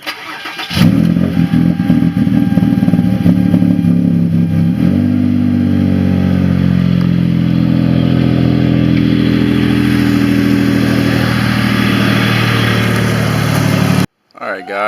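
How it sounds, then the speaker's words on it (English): A car engine that has sat unstarted for a couple of days cranks and catches, then revs loudly and settles into a rough idle before cutting off abruptly near the end. "This car hasn't been started in a couple days, so I'm hoping that it is going to start"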